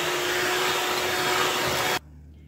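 Loud, steady whir of an electric mixer creaming sugar, cheese and eggs for vanilla mantecadas batter, running constant and close, then cutting off abruptly into near silence.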